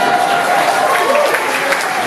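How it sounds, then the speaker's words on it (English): A concert audience at a live show at the City Winery in New York City claps steadily and loudly in a dense, continuous wash of applause, with faint crowd voices mixed in. "With all that applauding"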